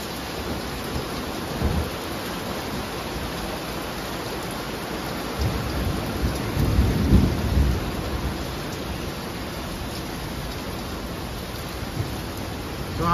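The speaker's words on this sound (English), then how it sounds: "see if you can hear the thunder" Low rumbles of thunder roll in the distance beneath a steady downpour of rain on a metal roof, swelling briefly before fading back into the hiss.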